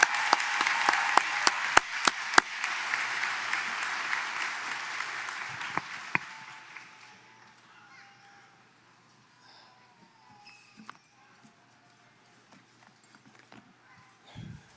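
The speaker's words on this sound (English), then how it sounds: "let's give those 4 speakers a big round of applause" Applause for student speakers at a high school graduation, a loud, dense burst of clapping with a few sharp claps standing out, fading to quiet after about six seconds, leaving scattered faint sounds.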